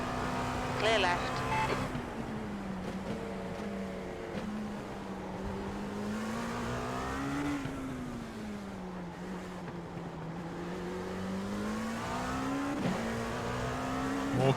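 Race car engines in the iRacing sim game, drone steadily and loud throughout, pitch rising and falling as the car closes in on slower cars, with a voice speaking over it.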